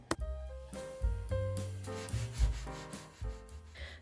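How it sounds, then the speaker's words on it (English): Rough, grinding orbital sander noise on raw wood with recurring pushes and strokes, mechanical and close, fairly quiet overall, in a basement. "I've been wanting an orbital sander, and so here we go, orbiting, sanding in the basement."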